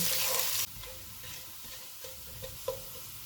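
Chopped ginger and garlic frying in a pot for beef masala: a burst of loud sizzling at the start, then quieter steady frying with a few light clinks of a spoon stirring.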